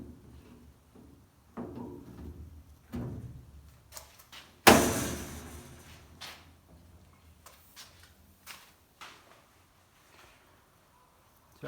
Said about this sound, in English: And this is the front door.